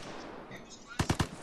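Gunfire in the online shooter game Vigor: three sharp, loud shots in quick succession near the end of the clip, preceded by a low, quiet background.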